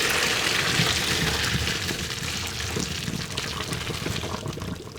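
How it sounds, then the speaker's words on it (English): Cooked pasta tipped into a strainer, with a steady close rush of pouring water splashing and gushing throughout, no talk. "Pasta's done, let's strain it."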